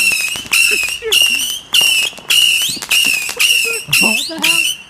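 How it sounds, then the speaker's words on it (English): Loud fireworks on bonfire night burst in a rapid series of about nine sharp bangs, each followed by whistling, crackling tails, close and dominating the scene. "There's a lot of fireworks, Tony."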